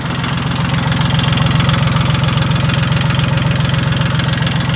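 A loud farm engine with a busted exhaust and no muffler idles with a harsh, rapid, uneven rattle and roar, steady throughout.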